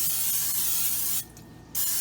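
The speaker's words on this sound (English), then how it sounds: "So what I am going to do is spray down the crock pot" Cooking spray hisses into a crock pot in a home kitchen, one steady close spray burst that cuts off abruptly, then resumes briefly near the end.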